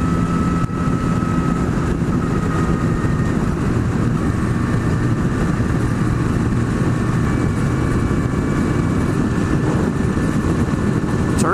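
Kawasaki ZX-10R motorcycle riding on the road, a steady loud engine drone with wind rush held throughout, no clear shifts or pauses and no talk.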